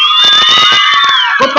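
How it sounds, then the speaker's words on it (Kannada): A crowd of school children at a government school's annual celebration shouts and cheers loudly together, a sustained near roar with a high sung or shouted tone running through it. "ಹಾಗಾಗಿ ಜೋರಾಗಿ ಚಪ್ಪಾಳೆಯನ್ನ ಕೊಡಿ ಮಕ್ಕಳ."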